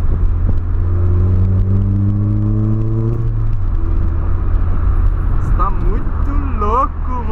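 A Polo car fitted with a sports exhaust revs and accelerates nearby, its engine tone climbing in rising sweeps and rumbling loudly while people talk excitedly over it.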